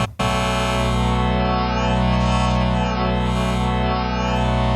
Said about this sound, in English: Sounding good, just like a wavetable should